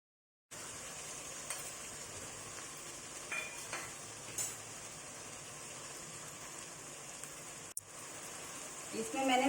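Chopped tomatoes sizzle steadily in a pan with onion and garlic, a constant close hiss with occasional small pops and a few stirring scrapes. A short cut of silence interrupts it near the end.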